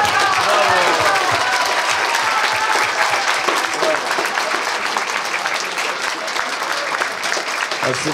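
A large concert audience applauds loudly and steadily for the whole stretch, dense clapping with a crowd murmur beneath and no pauses.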